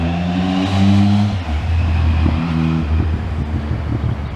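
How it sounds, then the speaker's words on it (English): Loud traffic roar from a busy road beside a small pond, with engines droning and cars whooshing past in overlapping waves, no voices. "excuse the noise, but it is beside a busy road"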